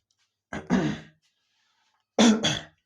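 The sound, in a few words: coughing and throat clearing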